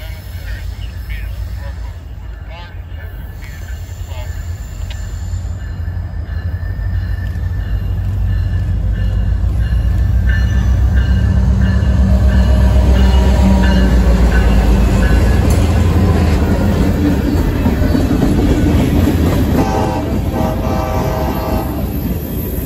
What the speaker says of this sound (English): we're at St. Denis, and we have a local train coming